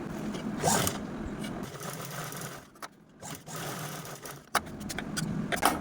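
A sewing machine runs in short bursts of rapid, rhythmic clatter while stitching the sides of a small cloth pouch made from leftover blouse fabric. Brief pauses separate the bursts, and the machine sounds close.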